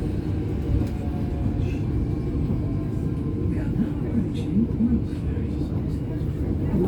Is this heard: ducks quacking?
no